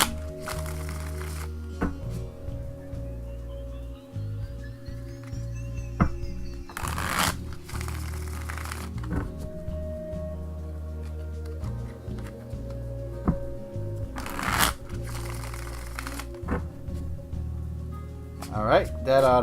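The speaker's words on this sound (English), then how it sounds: "shuffle the cards" Repeated bursts of tarot cards being shuffled, crisp riffling sweeps separated by pauses, with a voice talking quietly between them.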